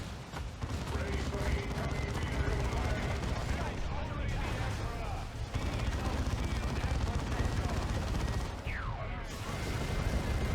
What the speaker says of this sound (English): Oh, beautiful barrage there.